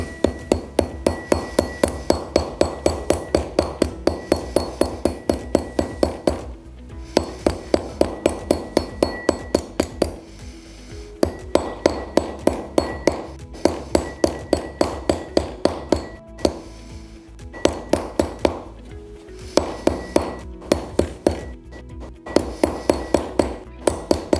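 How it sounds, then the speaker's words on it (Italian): Steady rapid hammer blows on metal in a metalworking workshop, a bright ringing clang on each strike, struck in long runs of regular rhythm broken by short pauses, loud and close with no talking. "quindi prima con un martello e poi rifiniamo con uno più piccolo"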